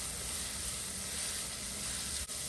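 Garlic sizzling in a hot pan, a dense, even hiss of frying held close and steady, with one brief dip near the end and no speech.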